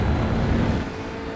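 An Audi RS3 TCR race car in iRacing drones at high engine revs on the Hockenheim GP circuit, a loud, steady roar that eases slightly near the end.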